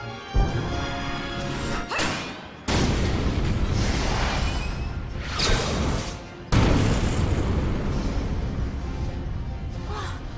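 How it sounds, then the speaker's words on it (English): Heavy booming blasts and crashing impacts from a tank shell being fired and deflected in the war game Valkyria Chronicles, with several loud explosive hits and whooshes over a dense, continuous battle rumble. "She deflected a tank shell."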